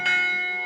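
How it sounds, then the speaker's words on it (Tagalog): A church bell in a Philippine province rings out a single bright, sustained stroke whose shimmering tone decays slowly. It sounds alone, with no voices. "Sa marami nating mga probinsya, ang mga kampana ng simbahan"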